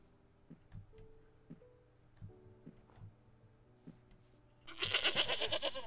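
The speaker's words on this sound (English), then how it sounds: "Another couple of goats, three goats" Goats in the Minecraft mod TerraFirmaCraft: soft game ticks and tones at first, then a loud, wavering goat bleat near the end.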